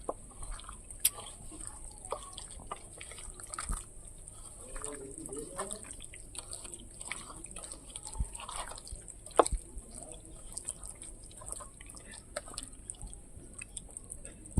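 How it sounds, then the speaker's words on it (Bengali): Chicken wings are worked by hand through a wet spice marinade, giving soft squelching and sticky slapping sounds with faint drips, close and quiet under a steady high background hum. "ভালো করে উইন্সটা ভালো করে এইভাবে মশলাগুলোর মধ্যে দিয়ে দেব"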